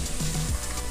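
Grated garlic and ginger hit hot oil in a pan for chilli idli, a loud, close, continuous sizzle with a faint stir.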